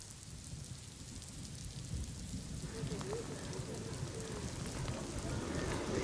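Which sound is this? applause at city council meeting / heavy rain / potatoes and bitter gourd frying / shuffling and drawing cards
heavy rain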